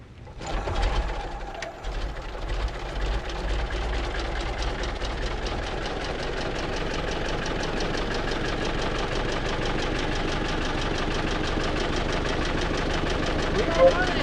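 A 1913 Hupmobile antique car engine starts with a sharp catch, then settles into a steady, close, rapidly ticking run with a low thrum and mechanical chatter that holds throughout.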